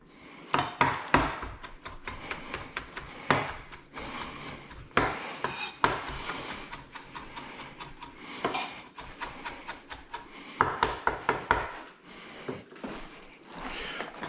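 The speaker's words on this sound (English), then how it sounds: "I'm going to give them a little bit of a chop because we're making a topping" A knife chops ingredients for a crunchy mac and cheese topping on a cutting board, with quick clusters of sharp, close chopping thuds and scraping, alone without talk.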